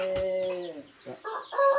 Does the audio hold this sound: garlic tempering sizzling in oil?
no